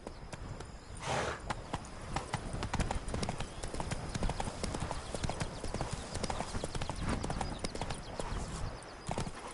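Horse hooves clip-clop steadily at a brisk riding pace in The Witcher 3: Wild Hunt, Blood and Wine DLC on PS4, with a dense rhythm of close, repeated hoof strikes running throughout.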